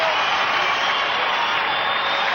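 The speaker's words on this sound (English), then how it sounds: "Listen to this crowd." A packed basketball arena crowd roars in a steady, loud wash of noise during a close 1992 Lakers at 76ers game, with no pauses or breaks.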